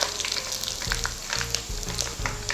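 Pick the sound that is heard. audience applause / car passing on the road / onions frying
onions frying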